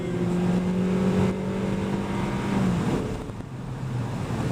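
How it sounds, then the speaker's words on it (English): A 2008 Mazda 6 engine drones under heavy acceleration from inside the car, a steady hum rising in pitch before easing off, with road noise underneath. "you hear the engine noise from going heavy on the accelerator, just the sound of the motor"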